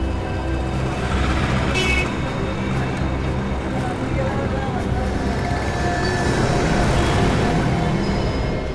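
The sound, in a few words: truck driving along a road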